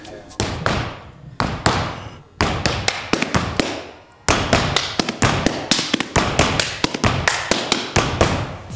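Rubber gumboots are stomped and slapped in a gumboot dance, producing loud, close thuds and sharp slaps in a driving, syncopated rhythm that speeds into steady rapid beats.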